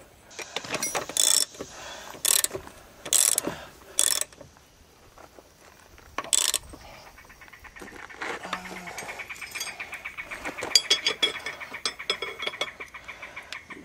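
Axle nut on a 2008 Chevy Impala being tightened during a front wheel bearing job, with loud bursts of a ratcheting tool followed by a long stretch of rapid clicking ratchet turns, close up.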